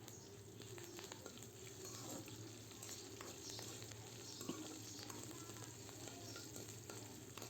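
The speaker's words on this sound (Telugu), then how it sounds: "కరివేపాకు కూడా వేసుకుని దోరగా వేపాలి." Curry leaves fry in a little oil with a steady, close sizzle and crackle and light stirring throughout, no voices.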